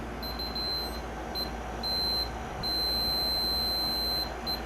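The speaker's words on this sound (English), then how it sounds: "get my multimeter here, which actually has a beep function on the continuity tester part of it" Continuity-tester beeps from a multimeter during repair of a 1967 Zenith X316W tube radio, thin high tones sounding in short and longer bursts over a low background hum, several in a row, no talk.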